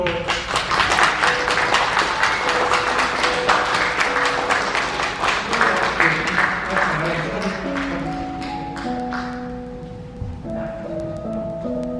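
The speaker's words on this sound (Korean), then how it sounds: "박수 주십시오." Sustained applause from an audience, a steady wash of clapping with music playing underneath.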